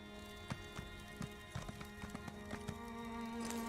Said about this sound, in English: Oh wait, nope, we were still on the horse.